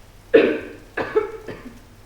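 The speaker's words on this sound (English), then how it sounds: "You're coughing." A character coughs in the Silent Hill 2 video game, three rough bursts close to the listener. The first is the loudest, and the next two come at steady intervals and fade slightly.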